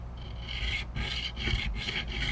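A StewMac fret crowning file rasps back and forth across guitar frets in about four steady, close strokes of gritty scraping.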